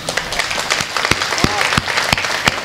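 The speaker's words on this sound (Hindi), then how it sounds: "एक बार तालियां बजा दीजिए।" Audience applause at a Hindi kavi sammelan poetry recital, a steady wash of many hands clapping with a few sharp, louder claps standing out, continuous throughout and close to the microphone.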